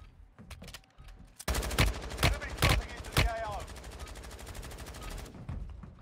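Sniper rifle shots in the mobile battle-royale shooter Warzone Mobile, several sharp loud cracks spaced about half a second apart over busy game ambience, with faint crackly echoes trailing off.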